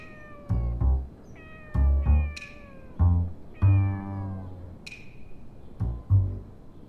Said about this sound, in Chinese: 外面怎么会这么多野猫叫啊？